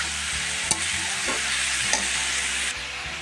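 Chopped banana flower (mocha) sizzles steadily in a hot pan, the constant frying hiss broken by a couple of sharp stirring knocks.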